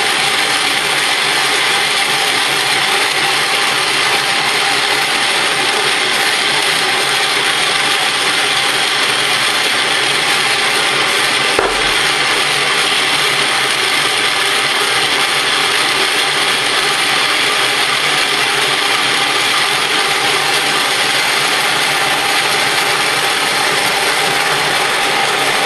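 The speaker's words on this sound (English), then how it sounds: "so I'm going to run that through with this slightly tighter setting for this third and final grind." Hand-crank grain mill grinding dried field corn on a tighter setting, a steady, loud, continuous grinding and ratcheting churn that runs unbroken throughout with no talk.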